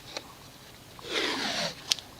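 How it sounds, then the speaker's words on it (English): Tape pulled from a roll and pressed onto the injection pump of a VW TDI 1.9L turbo diesel: one ripping, zipper-like pull lasting about half a second, close and fairly quiet, with a few small clicks around it. "I'm going to go ahead and put the tape back on here."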